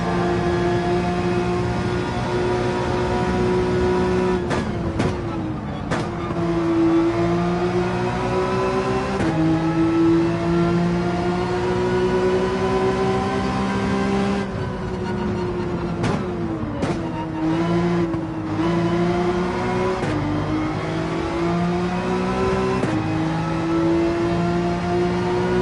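Race car engine in Gran Turismo 7 at Spa, held at a loud, steady high-revving drone with harmonic whine, briefly dipping and climbing again at a few gear changes over the lap.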